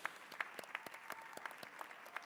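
An audience at an annual scholarship program claps for an honoree in the crowd. The applause is brief and faint, with scattered, separate claps heard from a distance.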